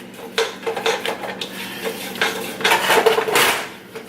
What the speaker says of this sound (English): I'm gonna keep stirring.